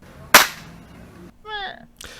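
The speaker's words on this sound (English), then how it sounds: "Explosions." A sharp, loud blast bursts out near the start and decays quickly, followed by a brief warbling tonal sound and a faint later hiss. It sits in a sparse background with no talk.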